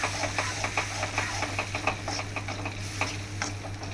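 Oil crackles and spits steadily as tempering spices fry for Malabar spinach chutney, a close, busy sizzle with small popping bursts throughout.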